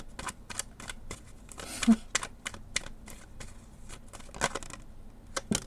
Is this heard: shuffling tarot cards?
yes